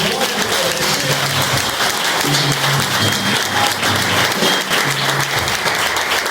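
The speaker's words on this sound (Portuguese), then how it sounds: "Uma salva de palmas para Jesus." An audience applauds loudly and continuously, many hands clapping in a dense, steady roar with faint background tones underneath.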